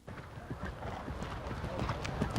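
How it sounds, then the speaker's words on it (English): Several horses gallop with rapid, overlapping hoofbeats in a steady drumming rhythm, mixed with a brief whinny and some background voices; the setting is Canadian show jumping tied to the 1968 Mexico City Olympics. "3 galloping horses, Rascal."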